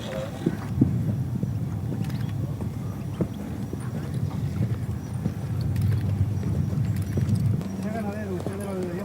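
A herd of horses moves across dry marshland near the village of El Rocío. Steady, close hoofbeats thud without a break, and a voice speaks over the trampling, with a faint whinny near the end.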